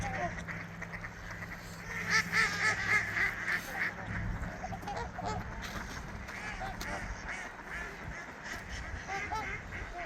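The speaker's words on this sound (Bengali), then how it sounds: "তারপর সোয়ান, গিজ।" Swans, geese and ducks call from a Minnesota lake, with honks and quacks overlapping at mid distance in a steady outdoor chorus and a voice speaking faintly now and then.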